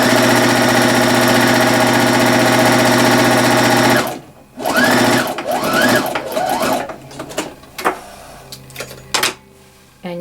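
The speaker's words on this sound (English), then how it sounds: "Snip that off and now sew another row quite close again to the first one." A sewing machine runs steadily for about four seconds, stitching a straight row on fabric to gather it, then stops and leaves a few quieter clicks and handling noises.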